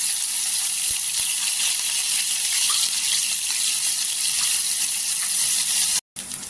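Crushed garlic and green chillies sizzle in hot oil with cumin seeds in a pan, a loud, steady, close frying hiss that continues without a break before cutting out sharply near the end.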